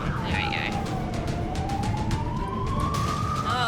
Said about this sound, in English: let me put a nicer siren on